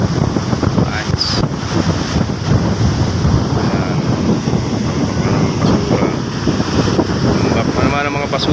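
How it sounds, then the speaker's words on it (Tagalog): Large ocean waves crash and surge continuously with heavy wind buffeting the microphone, a steady loud roar from start to finish, with someone speaking briefly over it. "Yan ang mga alon na naman, no? Super super lalaki."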